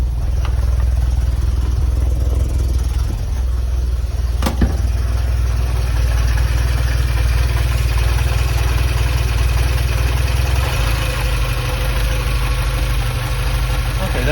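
A Porsche 924 engine runs unevenly at idle just after a timing adjustment. A steady, loud low drone carries on with faint clatter throughout, and there is one sharp click near the middle.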